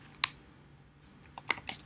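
Computer mouse clicks while entering reference list citations: a few sharp, quiet, isolated clicks, one alone, then a small cluster of two or three close together, over near-silence with no talk.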